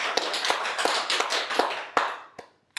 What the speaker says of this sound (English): That was a good round of applause for only 3 of us in the room. And only one of us clapping.